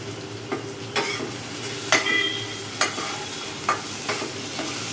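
Onions and spices fry with a pinch of salt in a pan for a paneer stuffing, a steady soft sizzle punctuated by a spatula scraping and tapping the pan every second or so, close and alone.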